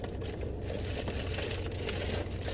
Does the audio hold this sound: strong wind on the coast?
no